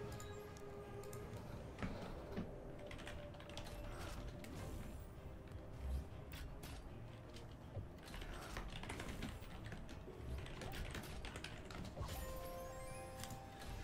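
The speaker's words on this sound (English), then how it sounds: "Sorry, just typing." Rapid, irregular clicking of computer keys being typed on nearby, continuing steadily with brief pauses.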